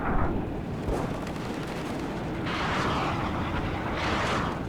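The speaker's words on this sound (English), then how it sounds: "More artillery fire on exposed vehicles on my end." Artillery fire hitting vehicles in the Cold War strategy game WARNO, a constant rumbling barrage of deep blasts and crackling impacts with swelling bursts, unbroken and fairly loud.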